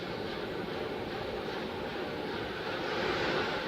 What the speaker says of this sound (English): A little bit of chugging from the APUs.